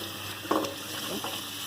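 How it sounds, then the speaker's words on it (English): Cranberries are rinsed under running water in a kitchen sink: a steady hiss of flowing water with a brief splashy burst as the berries are stirred, close and alone. "I'm going to rinse them off in the sink"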